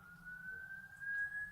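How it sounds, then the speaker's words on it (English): A siren wails steadily in the distance, a sustained high tone holding over low background rumble, fairly faint throughout. "You can hear sirens."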